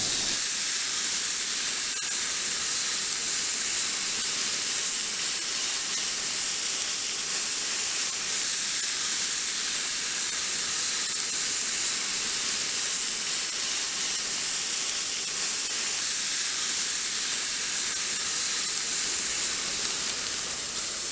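Thick steaks sear on a camp griddle, giving a loud, continuous hissing sizzle that stays steady and unbroken from start to finish.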